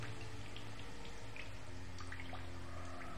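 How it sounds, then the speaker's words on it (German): Flowing water in the sci-fi exploration video game The Solus Project, a steady close rushing and trickling like running from a tap, with a low hum beneath and no talking. "Ich höre Wasser."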